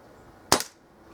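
A Kral NP02 air rifle fires a single pellet during target shooting, a sharp, loud crack with a short tail, alone against quiet background.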